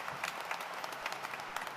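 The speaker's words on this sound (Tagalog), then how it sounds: "Mas malakas sa palakpak para sa Kanya." A congregation claps together during a Friday Mass at Quiapo Church, a short burst of fairly distant, diffuse applause.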